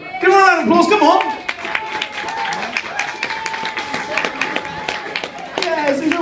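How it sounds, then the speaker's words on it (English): A pub audience at a competition claps in a brief, moderate round of applause, steady patter of hands running under a host's loud speaking voice and a few cheers. "Give her a round of applause, come on!"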